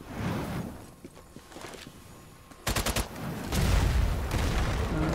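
Gunfire in the video game Strange Brigade: a quick burst of several sharp rapid shots, followed by louder continuous rumbling combat noise.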